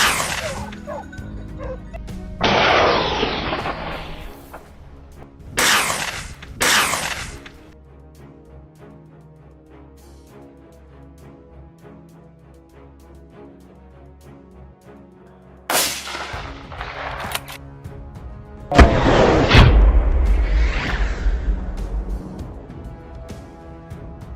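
Gunshots fired at a wild boar during a hunt, several sharp loud blasts spread across the scene amid dogs barking and yipping nearby.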